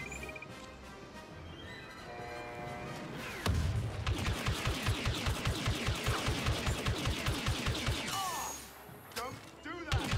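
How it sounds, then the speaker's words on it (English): Rapid blaster fire in Star Wars Battlefront II bursts out as a loud, evenly paced volley of repeated shots for several seconds, then breaks off into scattered impacts and clatter. "I'm shooting the enemy"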